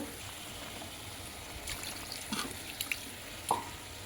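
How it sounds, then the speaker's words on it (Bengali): Water is poured into a simmering curry of potatoes and pointed gourd, giving a soft trickle and a few brief splashes over a faint, steady background hiss. "তো আর একটু পানি দেব"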